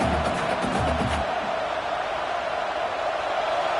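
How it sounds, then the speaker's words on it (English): A steady wash of crowd noise roars throughout, loud and continuous, like a packed stadium cheering from all around, in a college football video game. "It's early, but this crowd is fired up. Listen to this noise here."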